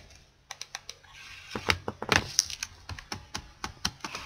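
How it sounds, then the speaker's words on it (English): Rapid tapping on a computer keyboard, a run of sharp clicks and clacks with uneven rhythm, a denser burst in the middle, fairly close and alone with no talk. "I can't type. I am awful at typing."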